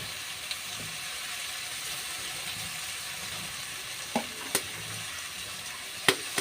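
Fish roe frying in a pan in a home kitchen, giving a steady soft sizzle throughout, with a few light clinks of a utensil stirring near the end.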